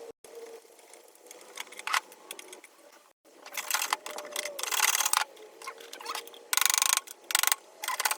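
A flathead screw is turned out of a vintage Craftsman radial arm saw being dismantled for scrap, producing close ratcheting, clicking and metallic scraping in short irregular bursts with brief pauses between them.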